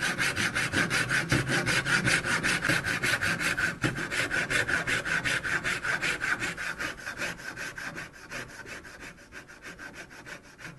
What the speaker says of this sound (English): I'll just cut the waste out now with a dovetail saw